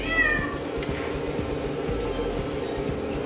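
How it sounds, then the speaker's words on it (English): A pet cat meows once near the start, a fairly clear wavering cry indoors, followed by quiet room hiss and soft rhythmic low thumps. "Sorry if you hear my cat right now"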